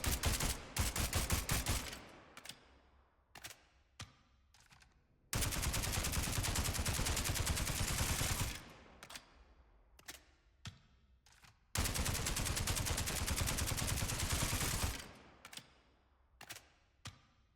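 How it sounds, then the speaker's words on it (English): Three long bursts of fully automatic fire from the Cyclone AR assault rifle in Spectre Divide, a few quick single shots leading in and scattered shots in the pauses between the sustained volleys, loud and close. "we have the Cyclone AR. This is a fully automatic assault rifle"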